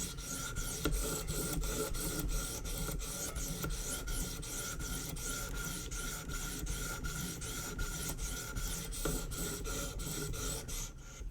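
A Spyderco Para 3 knife blade is drawn against a guided sharpener stone in a fast, even series of rasping strokes, close and continuous for about eleven seconds with no one speaking.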